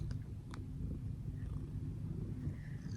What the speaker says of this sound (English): She's purring right now.